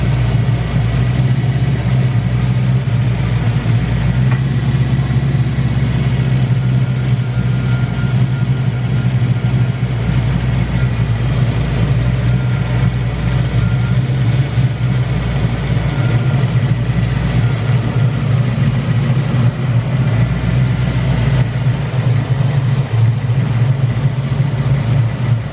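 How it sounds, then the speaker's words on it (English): An SN95 engine idles steadily and loudly at close range while cleaner is sprayed along the intake gasket, a continuous low droning rumble throughout with only slight fluctuation. "if you can hear it change pitch and idle, that means it's sucking this stuff through"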